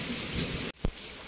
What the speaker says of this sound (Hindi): तो ये बारिश और बिजली